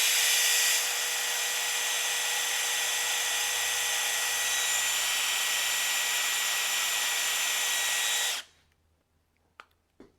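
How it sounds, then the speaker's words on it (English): A 12-volt cordless drill driving an oil primer pump on a big Chevy engine runs steadily and loudly for about eight seconds, then cuts off, leaving near silence with a couple of faint clicks. "225 pounds of pressure right there out of our 12-volt cordless drill."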